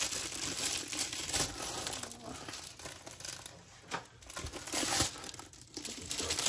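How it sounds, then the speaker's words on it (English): A plastic dust cover crinkles and rustles continuously as it is pulled off a canvas during an unboxing, close and fairly loud with sharper crackles in spots and no speech. "Comes in a plastic dust cover."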